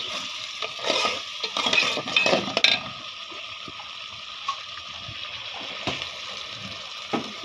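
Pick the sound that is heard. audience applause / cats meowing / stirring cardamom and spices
stirring cardamom and spices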